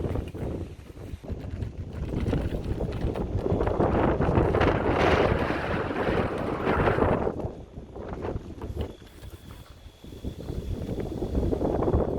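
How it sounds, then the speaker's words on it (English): Strong wind gusts buffeting a rooftop tent on a Jeep at a Vancouver Island campsite, a loud roaring rush that swells and fades in waves with heavy rumble against the microphone. "We had gusts that felt like they were trying to peel the tent right off the Jeep"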